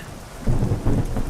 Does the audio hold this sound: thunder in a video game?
yes